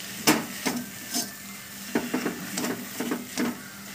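Samosa filling being stirred after black salt is added, giving repeated scraping and clinking strokes of a spoon against a pan at an uneven rhythm, close and clear.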